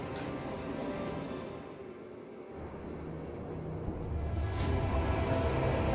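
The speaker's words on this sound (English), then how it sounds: "Go, train, go!" A train departs in the video game Space Marine 2, heard as a steady low rumble and rolling rail noise that swells gradually, fairly quiet and with no one talking over it.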